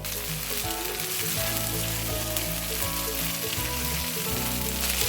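Steady, loud sizzling of whole garam masala spices frying in hot oil, a continuous crackle with occasional stirring, no voices.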